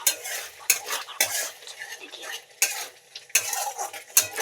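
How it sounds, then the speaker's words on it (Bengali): Spice paste with tomato or sauce frying in oil in a pan while a spoon stirs it: repeated scraping and clinking strokes in an irregular rhythm over a soft, constant sizzle, close and fairly loud. "মশলাটা একটু কষতে হবে যতক্ষণ না তেল বেরোয়।"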